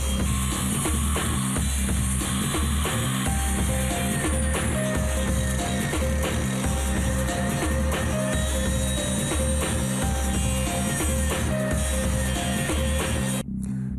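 A large angle grinder cuts through metal in a workshop, a loud, steady, continuous whine with a rough rhythmic chatter underneath, running without pause for the whole stretch.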